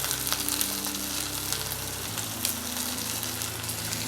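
Curry leaves crackle and sizzle in a hot oiled pan for a Kerala-style fish curry, a steady, close frying hiss with a low tone that drops partway through.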